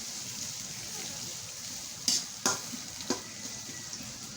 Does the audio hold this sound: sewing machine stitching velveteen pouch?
no